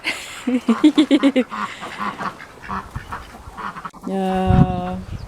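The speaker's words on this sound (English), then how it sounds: "Funny duckies." Ducks quack in a garden, a quick run of close nasal calls up front and a loud, drawn-out honking quack near the end, with other bird sounds and light background noise around them.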